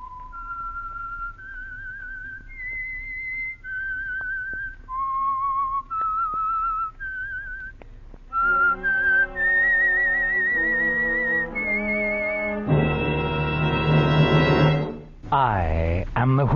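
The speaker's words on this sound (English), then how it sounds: "the signal to listen for is this whistle that identifies them." A lone whistler carries a slow, eerie melody of sustained notes, the signature theme of the 1949 radio drama The Whistler, joined partway by a swelling orchestral chord and a final dramatic musical sting.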